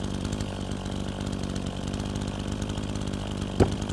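A chainsaw runs steadily near at hand while cutting beech wood, a continuous buzzing drone with a brief knock near the end.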